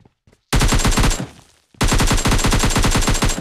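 Automatic gunfire from the video game PUBG comes in two loud, dense bursts of rapid shots, the first dying away after about a second and the second continuing steadily to the end.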